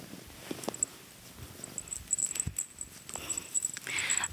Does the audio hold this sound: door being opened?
no